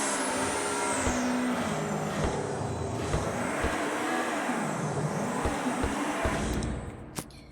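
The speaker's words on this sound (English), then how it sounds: "Just the brutal flat 4 rallying engine." Subaru Impreza 22B with a flat-4 rally engine in Car Dealership Tycoon, rally tune, roaring loud and close as revs rise and fall in repeated sweeps, then cutting off sharply near the end.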